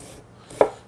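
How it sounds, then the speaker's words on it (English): A single quick, close knife stroke cuts through vegan lobster roll filling on a board, sharp and short after a moment of near silence. "just run your knife through quickly the other way"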